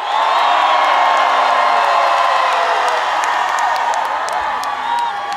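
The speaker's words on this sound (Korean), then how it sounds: "힘을 모아서 함성 한번 질러보세요!" Large outdoor crowd at a Korean autumn flower festival concert in Jangseong roars with sustained shouting and cheering, loud and dense throughout, with whoops and scattered clapping mixed in.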